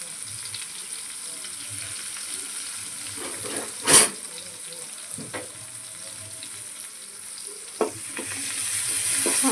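A snake gourd curry base with salt and turmeric sautés in a pan under a soft, steady sizzle, with scattered stirring scrapes and one louder clatter near the start.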